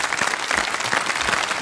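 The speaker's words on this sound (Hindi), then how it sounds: "तालियां नहीं रुकनी चाहिए भाई।" An audience claps and cheers in a lively burst of applause in a television studio as a young guest is welcomed on stage, dense and sustained throughout.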